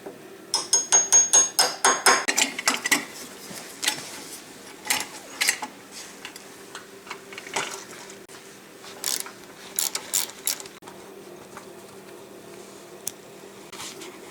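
Work on a Yates American B244 planer in poor condition brings a fast burst of rhythmic metallic ratcheting and clanking, then scattered knocks, taps and scraping sounds at close range, with no talking.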